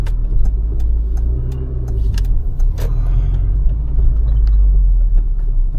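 An old, 20-year-old car drives through busy Bucharest traffic, its engine a steady low rumble filling the cabin with a few faint rattles and clicks, no talk.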